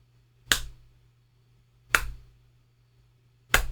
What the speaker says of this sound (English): A slow clap.